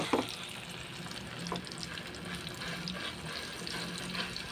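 A frying pan sizzles steadily while eggplant cooks, a faint, continuous crackle with a couple of brief scraping clatters near the start.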